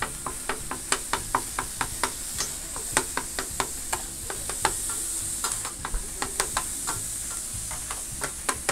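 Eggs fry in a pan while a utensil breaks and works them, steady sizzle under a string of sharp scraping knocks and taps at an uneven pace, close and clear, with no speech.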